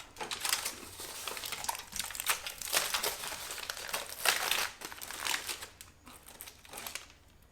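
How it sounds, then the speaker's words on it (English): Christmas crack candy being broken up under aluminium foil by hand, with continuous loud crinkling and crunching of foil and brittle toffee, close and busy, easing briefly near the end, no talking. "put your hands under the foil and just crack the crack"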